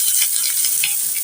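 Fried fish sizzles briskly in a pan as it is stirred, a bright, close hiss lasting only a moment with no voices.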